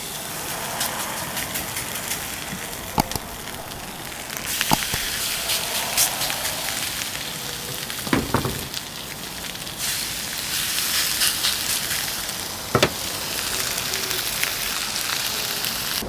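Pork chops sear on a hot Ooni Koda 16 oven, giving a steady close crackling sizzle for the whole stretch with a few sharper pops and spits, no talking over it.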